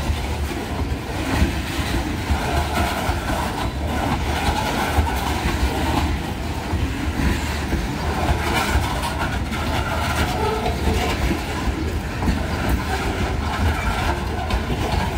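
An Ohio Central locomotive train rolls past nearby, a dense continuous rumble with wheel clatter holding at steady loudness throughout, no voices.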